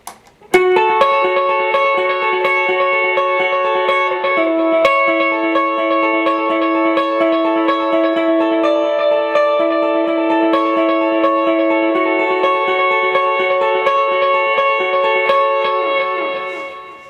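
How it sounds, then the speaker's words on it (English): A sustained electric guitar part with a dotted eighth note delay rings on, repeating echoes trailing each note in a continuous shimmering wash of delayed tones that fades at the end. "So that part's actually played with a dotted 8th note delay."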